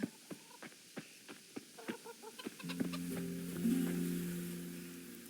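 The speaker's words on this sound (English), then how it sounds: "I have to feed the hens" Hens clucking in a farmyard in Kingdom Come: Deliverance, a series of short, separate clucks that give way to a low sustained hum and tonal drone in the second half, fairly quiet overall.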